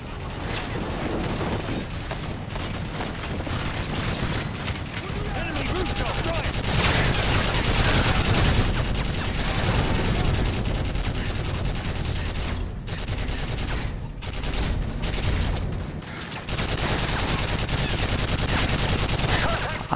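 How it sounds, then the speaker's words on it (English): .50 caliber machine gun cover fire in the Call of Duty MW3 campaign mission Back On The Grid, a loud, dense, continuous stream of heavy gunfire and explosions that barely lets up, with speech mixed in. "You remain a 50 caliber, lay down cover fire"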